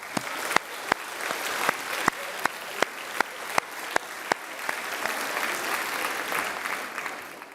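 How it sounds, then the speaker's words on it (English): Audience applause at the Euroquiz Final 2017 in the Scottish Parliament, a room full of people clapping, with a few louder, sharp claps standing out early over a steady, sustained patter. "you deserve to give yourselves a big round of applause"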